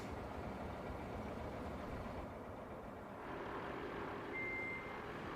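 A heavy work truck in RoadCraft rumbles steadily on a continuous engine drone, with a faint high reversing beep showing through briefly near the end.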